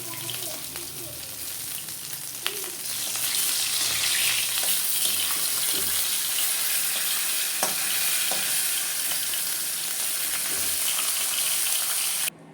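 Shing (stinging catfish) sizzles steadily in hot oil in a pan. The frying is loud and continuous, growing fuller after the first few seconds, with occasional clicks and pops. Nobody speaks.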